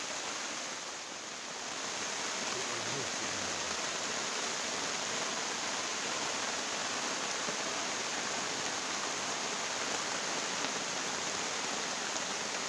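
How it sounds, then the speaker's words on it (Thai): Rain falling in a forest, a dense steady hiss of drops that runs unbroken and fairly faint throughout. "ฝนก็ตกอีกแล้ว"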